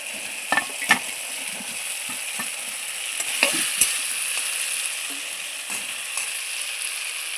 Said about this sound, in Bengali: এই আলু আর সুজি কুচিটা মশলার সাথে আমি খুব সুন্দর করে কষিয়ে নেব